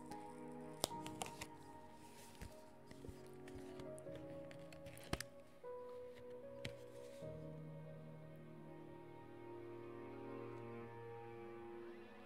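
Cards being shuffled during a solo tabletop session of the board game Mythwind, with soft riffling and a few sharp snaps over a steady low room hum, heard close and fairly quiet.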